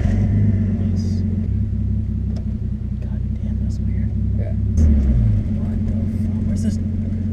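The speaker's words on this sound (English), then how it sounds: "the nice thing about these Skylines, you do not need to push a clutch in to start it" A Nissan Skyline R32 GTS-T sits idling nearby with a loud, steady low rumble, its engine note lifting briefly partway through, while faint whispery voices can be heard over it.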